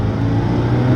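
A Ferrari F40's turbocharged engine pulls hard under acceleration, a loud, close, sustained roar with a steady low-pitched drone.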